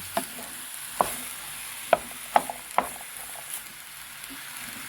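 Chicken breast frying in a pan, a soft sizzle punctuated by several sharp clicks and taps of stirring utensils against the pan.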